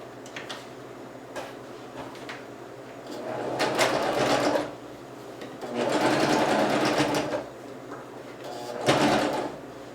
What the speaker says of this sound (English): Now what I'm going to do is I'm going to sew about 1/2 inch from this folded edge here.